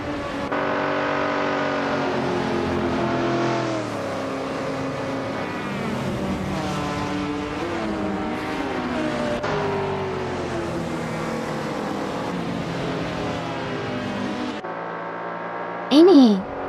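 Race cars, including a 1965 Ford Mustang GT, accelerate at Autosport Speedway with a sustained, loud, layered engine roar and rising revs, under continuous talk, ending with a brief loud burst.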